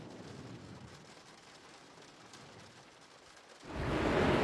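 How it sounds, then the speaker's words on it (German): Rain falls in remote Hornstrandir, Iceland: a soft, steady hiss of rainfall that suddenly grows into a louder, denser wash near the end. "Am nächsten Tag immer noch Regen."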